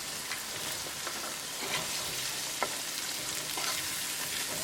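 Vegetables with chili flakes and onion, garlic and ginger powders sizzle in a cooking pan while being stirred, a soft continuous frying hiss with light, irregular scraping taps, fairly quiet and without speech.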